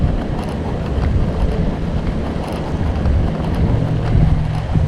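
Strong wind buffets the microphone beside a pond in downtown Dallas–Fort Worth, a steady low roar with gusty swells throughout and no voices.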